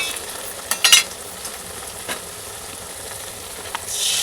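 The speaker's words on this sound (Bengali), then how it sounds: "কাঁচা লঙ্কা এবার এগুলোকে ভেজে নেব" Green chillies frying in a pan, heard as a soft, steady sizzle with a few sharp stirring clatters near the start and faint scrapes later, close and without talking.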